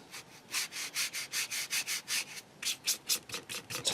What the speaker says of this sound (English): We're actually going to dry brush this now over a gloss varnish.